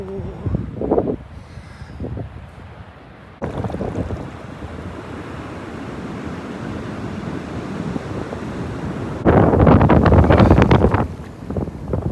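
Wind buffets the microphone on a black sand beach near Auckland at high tide, with surf washing in underneath and a louder gust and wave surge near the end.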